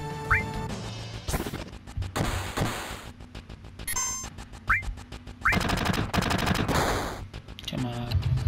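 Bursts of rapid gunfire from a Double Shot attack in Final Fantasy 7, sharp clustered shots alternating with short whooshes and game effect sounds, loud and close.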